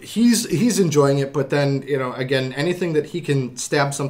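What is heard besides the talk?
None of the usual background noises is heard.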